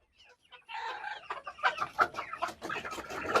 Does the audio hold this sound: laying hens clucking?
yes